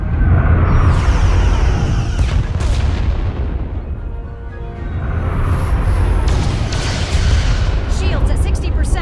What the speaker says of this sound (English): Fire phasers! Firing.